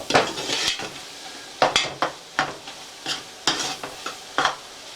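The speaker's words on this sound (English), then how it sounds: "So I'm going to cook this flour into the butter, and I'm going to stir it." A spoon stirs flour into melted butter in a pot for a potato soup roux, giving repeated scraping strokes in an uneven rhythm with a soft sizzle underneath, close and fairly loud, with no voices.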